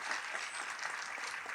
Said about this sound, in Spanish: Démosle un fuerte aplauso al doctor Alberto Kousuke de la Herrán Arita.